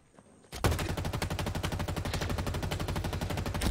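Sustained rapid automatic gunfire in the shooter game Halo Infinite erupts loudly after a brief quiet moment, a steady, evenly spaced stream of shots continuing to the end.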